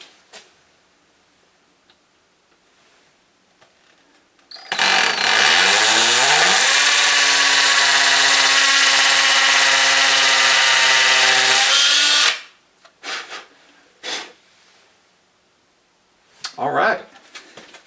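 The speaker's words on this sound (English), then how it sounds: "Let me drill the other one." A power drill drives a screw during a plumbing job, a loud continuous whine lasting about eight seconds with the motor pitch rising as it spins up, followed by brief clicks and handling noises.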